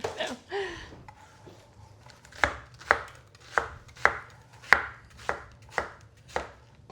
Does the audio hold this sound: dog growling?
no